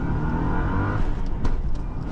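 A cheap used Subaru with a 2.5 turbo engine revs and accelerates, a loud rising engine note that shifts pitch partway through, close up with no talking.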